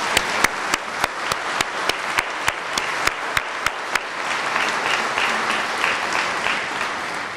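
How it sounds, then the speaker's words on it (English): Audience applause at an affordable housing ribbon cutting ceremony: a run of sharp, evenly spaced claps near the mic leads into a broad, steady wave of clapping from the crowd that fades slightly toward the end. "So how about a round of applause for the development team and the awesome."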